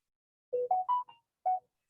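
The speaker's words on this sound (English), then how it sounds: "that was my phone telling me that somebody just logged in." A phone push notification from the Command app plays a short rising electronic chime of four quick tones and a fifth after a pause, clear and alone against silence.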